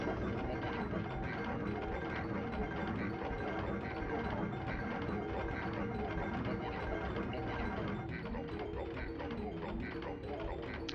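In the Banjo-Tooie video game, machinery grinds and clanks steadily as it moves into the grinder, a dense continuous mechanical rattle like ratcheting gears that holds at one level throughout.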